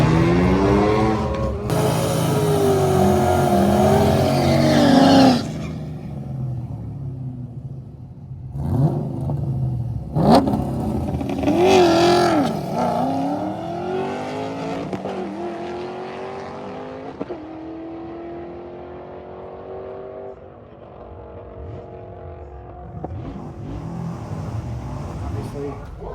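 A Mazda FD RX-7 race car fitted with an LS engine revs hard and pulls through the gears in loud, rising engine sweeps with gaps between bursts, while people talk over and between the runs.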